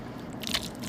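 A single crisp bite into creamy shrimp, a quick close crunch with soft wet chewing texture, heard alone without speech.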